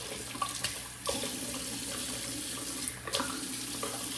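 A bathroom tap runs in a steady stream into a sink, with a couple of brief splashes and shifts in flow as hands move under the water.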